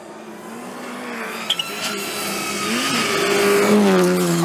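Rally cars race past at high speed on a forest stage, their engine note rising and revving as they close in, growing louder through the passage, with a brief tire squeal and no talk.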